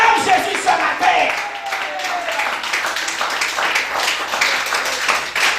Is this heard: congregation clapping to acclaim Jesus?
yes